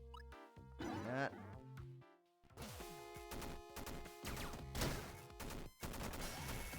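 Gunfire in the video game Downwell: quiet bursts of crunchy, rapid retro shots and smash effects mixed with chiptune-style tones, scattered through a busy stretch of game audio without talk.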